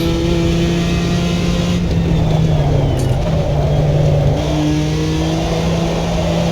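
Car engine driving loud and close around a lap, holding a steady drone with revving and shifts in pitch as it accelerates; no talking.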